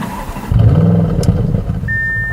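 A 2018 Audi S6 V8 engine rumbles low and steady through the exhaust, swelling as it revs, with a brief high whine near the end; no voices.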